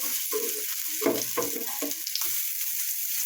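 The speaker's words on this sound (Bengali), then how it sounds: "আমি উল্টিয়ে দিলাম, সবগুলো বড়া আমার উল্টানো হয়ে গেল। তো এভাবে উল্টিয়ে পাল্টিয়ে একটু সময় নিয়ে ভেজে নেবেন" Masoor dal fritters with Malabar spinach leaves sizzle steadily in hot oil, a loud continuous crackle with softer clinks and stirring sounds as the fritters are turned.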